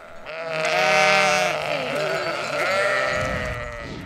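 A flock of sheep grazing buckthorn on a mountain bleats loudly and close, with several overlapping drawn-out calls.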